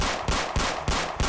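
Rapid gunfire in a police-themed video game: five loud, evenly spaced shots in just over a second, close and punchy with no talk.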